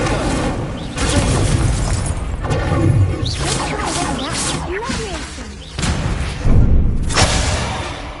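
An Incendio fire spell is cast in Hogwarts Legacy, producing repeated whooshing bursts and thuds mixed with impacts and other spell effects, loud and busy, with a voice speaking over parts of it.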